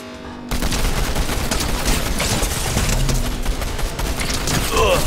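Dense, continuous gunfire bursts from a Fortnite match fill the scene at close range, loud and sustained after a brief quiet start.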